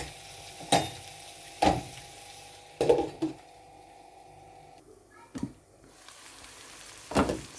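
Samosa filling fries in a pan with a soft steady sizzle, broken every second or so by sharp scraping stirs of a spoon against the metal.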